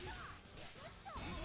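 A guard crash lands in King of Fighters XV during a CEOTaku 2022 tournament match: a sharp smash-like impact with swooshing game effects over steady crowd and arena noise.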